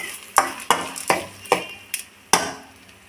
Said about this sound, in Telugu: పచ్చెనపప్పు వేసుకొని సిమ్లో పెట్టుకొని మనం బాగా ఫ్రై చేస్తాం.